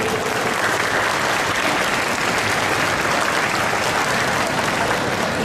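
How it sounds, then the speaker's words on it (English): An audience applauds a guest conductor and trainer, Maestro Rodelio Flores, with dense, steady clapping throughout and no speech over it. "But Mr. Rodelio Flores, a round of applause for him."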